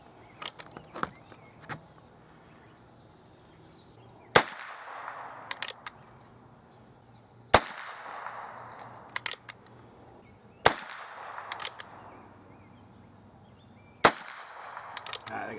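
A Heritage Rough Rider Rancher revolver fires at a target about 25 yards away, giving six sharp, loud reports spaced a few seconds apart, each followed by quieter clicks and handling noise between shots.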